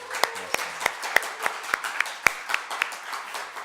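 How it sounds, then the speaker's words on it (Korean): A church congregation claps at a small-group closing service, heard here as a string of about a dozen sharp, separate claps at an even, brisk rhythm, close and clear against a quiet room. "목자, 목녀 여러분 큰 박수 한번 해주시기 바랍니다"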